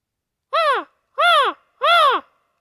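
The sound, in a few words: crow call imitating a crow's caw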